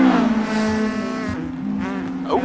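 A Jägermeister VW Golf race car in a GTi Challenge track race roars with a loud, steady engine drone as it slides sideways, and a brief tyre squeal rises near the end.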